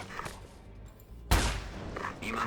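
Gunfire from the video game Ghost Recon Advanced Warfighter 2: one sharp, loud blast bursts out midway after a quieter stretch of background battle noise, trailing off into rumble.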